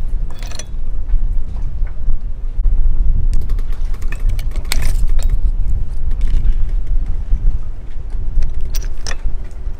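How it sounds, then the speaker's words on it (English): Stainless steel wire seizing is clipped and unwound from a stainless anchor shackle, with close metallic snips, clicks and scraping over a low handling rumble. "Just taking apart our wire seizing."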